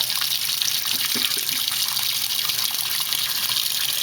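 Inside a Maytag Centennial HE top-load washer, water gushes steadily into the drum during fill. The rushing, hissing flow is close, constant and unbroken, with no voices.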